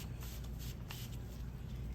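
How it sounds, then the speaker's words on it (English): A spray bottle mists an anthurium plant against spider mites indoors, giving repeated short, soft pumps of spray over a low background rumble, with no voices. "So you have to spray at the bottom completely, right?"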